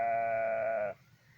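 A single sheep lets out one sustained, nasal bleat close by that cuts off after about a second, followed by faint background sound.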